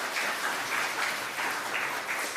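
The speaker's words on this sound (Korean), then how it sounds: "옆에 있는 분들 박수로 환영하겠습니다." A church congregation claps in welcome during a Sunday worship service, a steady, dense applause from many hands that holds at an even level throughout, with no voices over it.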